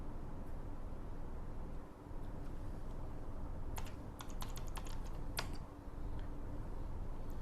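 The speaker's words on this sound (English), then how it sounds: "I am typing this primary mobile number" Keys clicking on a computer keyboard while entering a mobile number into an accounting program, a quick burst of close taps over a steady low background hum.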